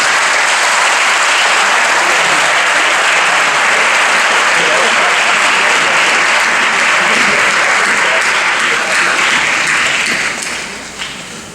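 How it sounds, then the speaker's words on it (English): Applause breaks out at a pharmacy white coat ceremony as the audience claps for the students' supporters. The clapping is loud, dense and sustained from a large crowd, fading out near the end. "why don't you give your supporters a round of applause too"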